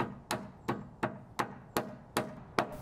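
Hammer driving nails while installing joist hangers on a post frame shed, seven evenly spaced sharp ringing blows close by, about one every 0.37 seconds, with no talking.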